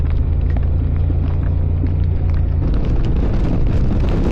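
Strong wind buffets a car-mounted microphone on a rainy day, a loud, constant low roar and rumble with no pauses and no voices.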